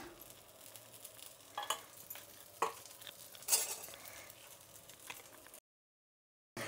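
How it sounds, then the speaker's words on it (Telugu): Masala dosa cooks in ghee on a hot pan, with a faint steady sizzle under scattered sharp scrapes and taps of a utensil. Brief silence falls near the end. "అదేనండి మసాలా కారం దోశ వేస్తున్నాను. నెయ్యి వేసుకున్నామా"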